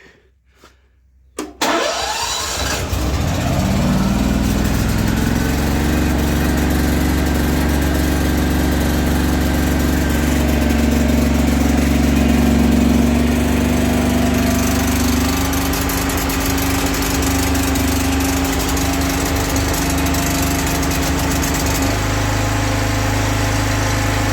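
A generator converted with a gas kit cranks and fires up after a brief rattle, then settles into a loud, steady, close-up engine drone running on gas.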